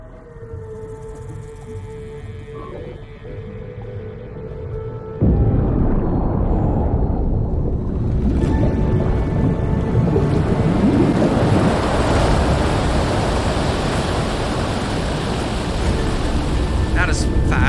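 A large body of water drains away in Horizon Forbidden West, a sudden loud rushing surge that keeps roaring steadily after a quieter humming ambience, with a voice speaking briefly.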